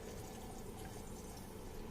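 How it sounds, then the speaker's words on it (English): An ethanol cleaning solution is poured through a funnel into a bioreactor vessel, giving a steady, faint, continuous liquid rush with no talking. "Now like this we have to fill the water inside."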